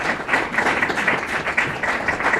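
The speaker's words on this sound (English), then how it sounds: "I see a lot of claps only from women" An audience at a business conference session claps steadily, mostly women, producing a continuous, moderately loud patter of hand claps with no talking over it.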